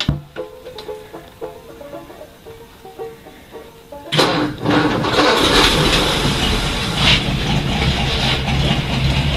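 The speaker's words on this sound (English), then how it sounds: "I think I just reached in the window and start the motor." A 1955 Ford engine starts: a few soft clicks and light mechanical noises, then it suddenly catches and settles into a loud, steady running rumble.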